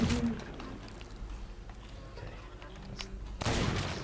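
Gunfire in the pirate video game Sea of Thieves: a sharp shot at the start and another burst near the end, separated by quieter game ambience.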